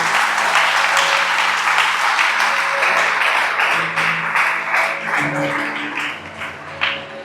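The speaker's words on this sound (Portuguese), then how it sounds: "eu quero que você aplauda mais forte" Church congregation applauding loudly and steadily throughout, a dense continuous clatter of many hands with a sustained musical tone underneath.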